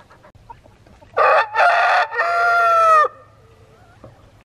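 A rooster crows loud and close in a yard, a single drawn-out call in several bursts, with quieter clucks from the chickens around it.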